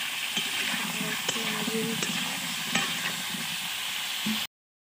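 Potatoes fry in oil and are stirred with salt, producing a steady close sizzle with periodic scrapes of the spatula; a voice speaks briefly near the end before an abrupt cut.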